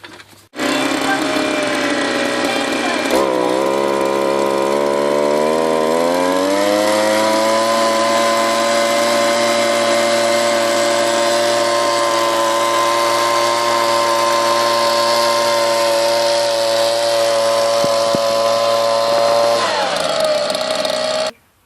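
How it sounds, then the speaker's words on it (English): A leaf blower roars loudly and continuously, its motor pitch rising as it revs up, then holding steady before cutting off abruptly. "pick it up with this blower, and then blow it along"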